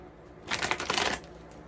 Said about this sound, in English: So I'm just shuffling my cards.